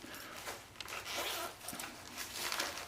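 A zipper on a first aid pouch is pulled in several quick rasping strokes, close by and fairly loud, with a brief pause midway.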